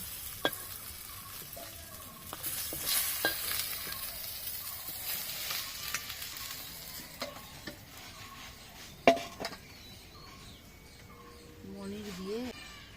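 Boal fish frying in hot oil for a curry with potato and cauliflower, a steady low sizzle with occasional stirring knocks and clinks against the pan, fairly close.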